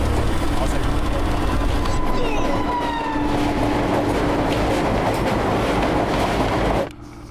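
A train rolls steadily on its rails with a loud, continuous rumble and a faint rhythmic clatter, running nearly seven seconds before cutting down abruptly to a quieter background.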